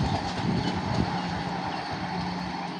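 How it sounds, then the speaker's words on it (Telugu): A Vande Bharat express rushes past at speed, a dense continuous roar of wheels and rushing air with faint rail clatter, close and loud. "చూసారా మన వందే భారత్ ఎంత వేగంగా వెళ్తుందో"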